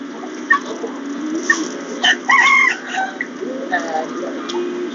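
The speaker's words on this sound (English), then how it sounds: "Here we are in the chicken barn." Chickens in a barn give scattered clucks and short squawky calls over a steady indoor hum, with a louder burst of calls near the middle, mixed with a voice speaking.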